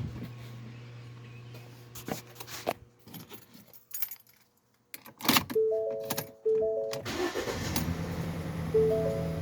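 Keys jangle near a Ford Escape with a stuck spark plug, followed by the engine cranking, catching and settling into a steady idle, with chimes sounding over it and no voices.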